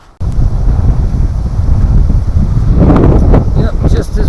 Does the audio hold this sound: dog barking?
no